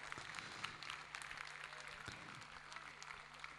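An audience at a guru-honouring stage ceremony keeps up steady, continuous applause, a dense even patter of many hands heard from within the hall.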